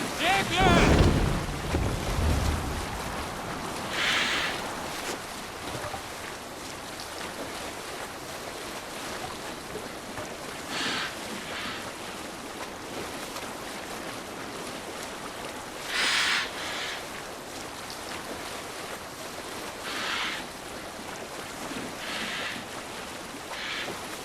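A Viking longship sails at sea in Assassin's Creed Valhalla, with a steady wash of waves and wind under the hull and occasional louder splashes or gusts breaking through the constant rush.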